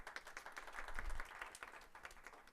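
Light clapping from a small audience greeting a psychology professor at a college lecture, quiet and a little distant, swelling briefly in the middle before trailing off.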